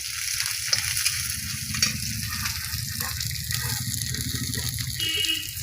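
Cumin, chopped chilli and dal frying in hot oil in a pan, a steady loud sizzle and crackle that holds without break, close up, with no voices over it.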